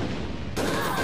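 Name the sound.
explosions and gunfire in video game APB Reloaded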